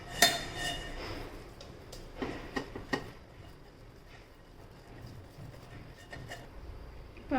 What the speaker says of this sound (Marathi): आता आपण पुरण बारीक करून घेऊयात